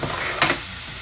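Sausage and sweet potato sizzle steadily in a lightly greased pan as a spatula tosses them, with one brief louder scrape-and-stir burst partway through, close and alone without talk.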